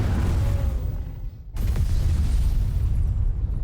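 A spirit bomb attack detonates in Final Fantasy XVI, a loud sustained rumbling explosion that briefly cuts out, then returns as a heavy roar that keeps going to the end.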